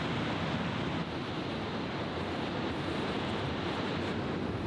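Steady, dense roar of surf and rushing water around a waterfall, Mulafossur falls, constant and broadband without pause, like waves churning continuously nearby.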